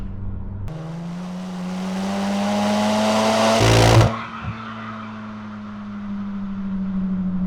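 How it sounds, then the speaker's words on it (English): A car engine revs up steadily to a loud, raspy exhaust roar, then drops abruptly back to a rumbling idle. "we'll see how noisy this exhaust is at like 3/4 throttle"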